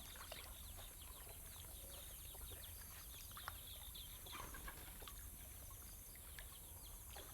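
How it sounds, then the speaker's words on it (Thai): A chicken clucks faintly in rice-field countryside, brief scattered calls sitting low under a steady hiss of outdoor background noise, with no talk. "ไก่เนาะ"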